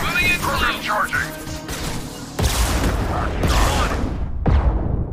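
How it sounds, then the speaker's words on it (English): Bursts of crashing gunfire and impacts in a Mass Effect 2 battle, sharp cracks and booms scattered irregularly, with some background chatter mixed in. "I'm hearing gunfire."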